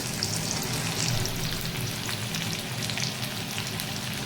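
Loud, dense sizzling from garlic and noodles frying over high heat in a thin kadhai, a continuous bright crackle with low stirring rumble underneath, close up and without voices.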